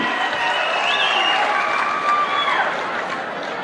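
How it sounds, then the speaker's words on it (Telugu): An audience at an official meeting claps for an officer in a steady, dense round of applause that holds evenly throughout, with a faint tonal whine above it. "గట్టిగా చప్పట్లు కూడా చెప్పండి, అభినందించండి."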